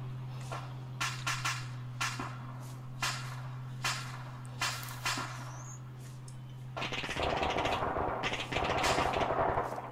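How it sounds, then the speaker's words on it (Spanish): Gunfire in the ArmA 3 video game, heard as a series of sharp shots spaced about a second apart, followed by denser, continuous rattling fire that grows louder toward the end. "Disparos desde la derecha."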